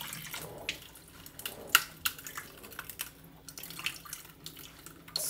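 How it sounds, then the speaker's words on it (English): Hot tap water runs onto a frozen phone in a sink with a steady splashing hiss, broken by small clicks and taps near the mic. "Give it a little bit of hot water."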